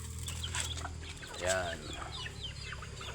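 Chickens cluck and call around a farmyard during feeding, with a rooster-like squawk rising briefly midway over steady low background noise; someone speaks one short word.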